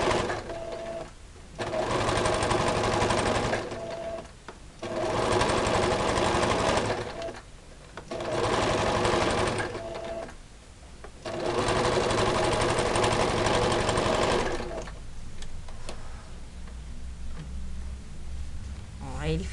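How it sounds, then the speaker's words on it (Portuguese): A sewing machine stitches a bag in several loud, steady bursts of rapid whirring, separated by short pauses, with a person talking quietly in the gaps and near the end. "Vai esticando e vai passando a costuradinha."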